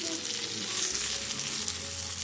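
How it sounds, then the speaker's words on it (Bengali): Fish fries in a pan with a loud, steady sizzle that runs unbroken throughout, with a light stirring rustle and no talking. "আমি এদিকে মাছগুলোকে ভেজে নিচ্ছি"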